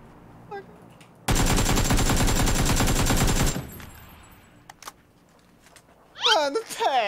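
Automatic rifle fire rattles in a rapid, loud continuous burst for about two seconds in the video game PUBG, followed by scattered quieter shots while players talk excitedly.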